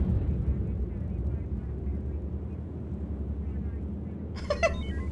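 A self-destructed missile explodes in a video game, a brief bright crackling burst near the end that follows a long, steady low rumble of engine-like noise.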